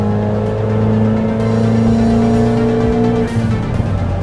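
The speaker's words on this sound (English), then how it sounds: "So now it's over to do a dyno power run and see what difference we make." Turbocharged car engine held at high revs on a chassis dyno during a power run, a loud sustained drone with strong steady harmonics that drops and shifts near the end as the run eases off.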